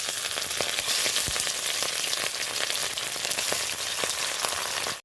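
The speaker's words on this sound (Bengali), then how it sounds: "মাছগুলো দিয়েছি আর এক করে উল্টে পাল্টে ভেজে নেব" Fish pieces fry in hot oil in a wok, giving a loud, steady sizzle with dense crackling and spitting pops throughout, no voices.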